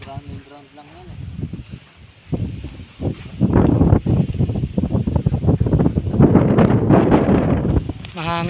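Strong gusty wind buffets the microphone outdoors at a land surveying site, a continuous low rumble that swells louder midway, with people talking over it throughout.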